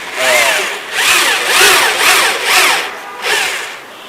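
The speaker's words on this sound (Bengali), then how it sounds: "এই যে মেশিন দিয়ে আবার এটা স্ক্রু ইয়ে করতেছেন স্ক্রু মারতে হয় মেশিন দিয়ে" A power screwdriver drives screws into wooden furniture in a workshop, several short whirring bursts rising and falling in pitch with brief pauses between them, loud and close, no talk.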